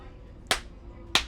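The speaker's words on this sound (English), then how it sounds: "Clap us in." Two sharp hand claps about half a second apart, close and crisp, each snapping out against a quiet background with no one talking.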